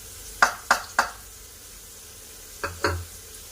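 Boondi batter drops into hot oil for making sweets, each landing with a sharp sizzling burst that fades quickly; three quick bursts come in a row, then two more after a pause, close and moderately loud.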